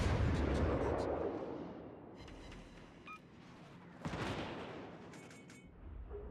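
Naval gunfire in a video game, a heavy booming barrage that swells loud at the start and fades to a rumble, with further distant blasts and faint electronic blips after the midpoint.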